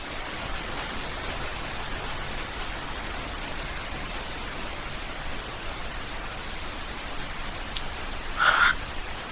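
Steady rain falling, a dense even hiss of drops that holds at the same level throughout, with one brief louder burst near the end and no voices.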